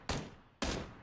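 Two loud gunshots from a video game firefight, evenly spaced about half a second apart, each a sharp broadband crack with a short decaying tail, heard alone without talk.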